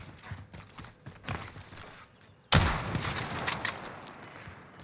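A sharp, loud sniper rifle shot in the shooter Warzone cracks after scattered distant gunfire and footsteps, followed by lingering echoing noise and small mechanical clicks, with no talking.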